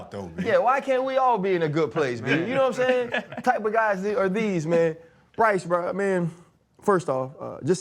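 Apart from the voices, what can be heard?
No distinct noise like a dog, phone or traffic.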